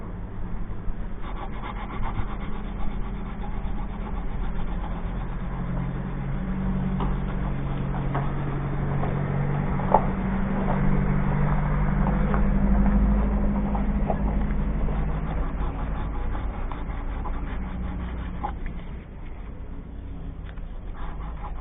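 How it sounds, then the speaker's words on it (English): Hand sanding a rusty patch on a Mercedes Sprinter van with 600 grit paper wrapped around a wood block, a continuous close rasping rub with steady back-and-forth strokes and no talk. "using a piece of 600 grit on a piece of wood, I'm going to sand this down"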